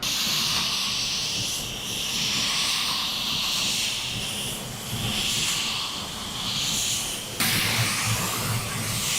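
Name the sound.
spray gun applying a wet coat of silver metallic paint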